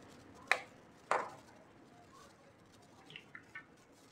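An egg cracked into a bowl while making crispy chicken fry, with two sharp taps close up, followed by a few faint light clicks.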